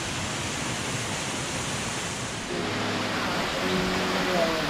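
A waterfall on a hiking trail on Roatan roars steadily as a broad, continuous rush of falling water, close and loud, with faint voices underneath.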